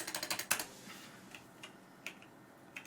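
Computer keyboard being typed on, a quick burst of rapid close clicks at the start followed by a few scattered, fainter key taps.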